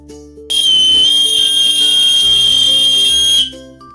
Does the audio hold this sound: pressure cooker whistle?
yes